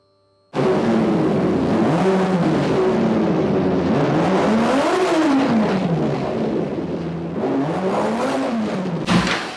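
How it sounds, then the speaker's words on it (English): Kawasaki ZX636 engine with a rebuilt fuel pump fires up and is revved by twisting the throttle: a loud, close roar that swells and falls in several uneven waves, running rough, then cuts off abruptly near the end. "I'm going to twist the throttle,"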